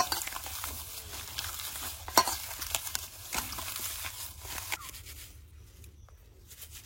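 Magur catfish rubbed clean with fig leaves for a village-style fish curry: a close, steady wet rustling and scrubbing that runs continuously with occasional sharper crinkles, then fades toward near silence at the end.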